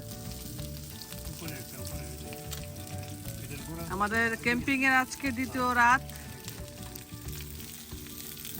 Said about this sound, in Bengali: কাবাব ভাজা হচ্ছে আমাদের মেহমানদের জন্য